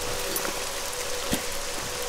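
Steady rain hisses continuously in the fantasy video game Nehrim, an even wash of patter with a faint tonal hum beneath and a few soft drips.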